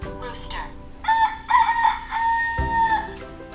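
Loud, close crowing from a farm rooster, one full cock-a-doodle-doo with a sharp start and a long held, wavering tail, then a thump and faint room noise as it ends.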